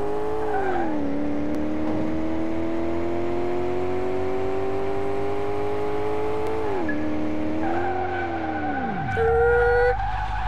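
A car in Car Mechanic Simulator 2018 skids on its handbrake, with a long, loud, steady tire squeal sliding in pitch over an engine drone, then a sudden drop as the slide ends.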